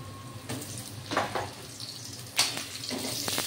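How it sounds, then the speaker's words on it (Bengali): Potato pieces dropped into hot oil with cumin, frying with a steady, close sizzle and a few louder crackling bursts as they settle in the pan. "আলু ছেড়ে দিলাম, আলুটা ভাজা হবে।"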